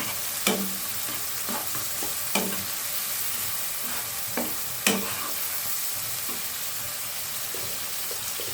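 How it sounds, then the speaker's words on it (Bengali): Sliced onion and green chilies fry in a pan for a dried loitta fish dopeyaja, with a continuous sizzle up close. Every couple of seconds a spoon knocks and scrapes the pan, and no one talks. "দিয়ে দিচ্ছি কাঁচামরিচ ফালি। আর পেঁয়াজটা আমি বেশি ভাজবো না"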